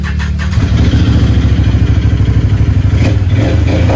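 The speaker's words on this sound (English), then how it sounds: "You want to hear what a real four-wheeler sounds like?" A Can-Am 800 four-wheeler ATV engine starts and then runs with a loud, close, low rumbling idle. It holds steady and throbs with a slight clatter, and no one speaks over it.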